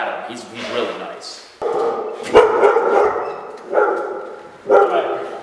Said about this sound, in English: Oh, his dog's super nice.